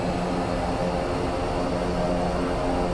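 A constant, even aircraft engine drone inside the flight simulator DCS World, a dense whooshing hum holding steady throughout with no voices over it.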